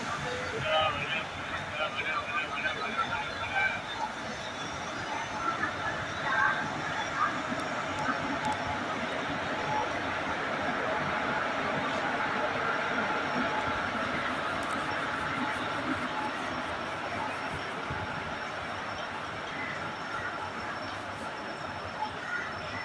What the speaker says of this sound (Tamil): இங்கேருந்து நம்ம ட்ரெயினுக்கு ரிவர்சல்.